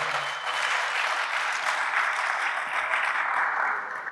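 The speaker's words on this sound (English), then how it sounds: "Another round of applause for that." Audience applause after a behind-the-scenes film discussion, a steady wash of many hands clapping at moderate level for about four seconds with no talk over it.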